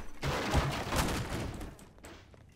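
A quick burst of gunfire in the Garry's Mod horror game, several rapid dense shots packed into about two seconds before fading.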